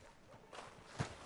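Horse hooves clip-clopping in Red Dead Redemption 2, soft and fairly distant steps over a low ambient bed, with one brief louder thump near the end.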